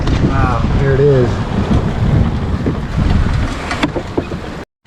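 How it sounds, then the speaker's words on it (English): Torrential downpour during a lightning storm at a homestead makes a loud, steady broadband roar throughout, with voices talking over the rain. "All right, more of our torrential downpour."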